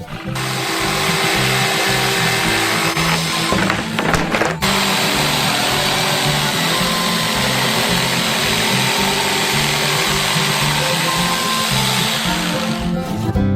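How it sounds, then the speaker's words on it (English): An electric jigsaw cuts out a shape for a giant chocolate coconut bar, a loud steady buzzing drone close by with a brief change in pitch partway through, then steady running to the end. "Now we just need to cut it out with an electric jigsaw."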